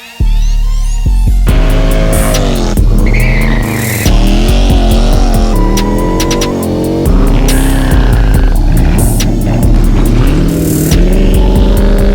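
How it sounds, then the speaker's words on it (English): A Dodge Charger EV electric muscle car roars past repeatedly with its exhaust sound system, rising and falling engine pitch and tire squeal, close and continuous throughout. "let's talk about the sound of this car and what's one thing that is missing"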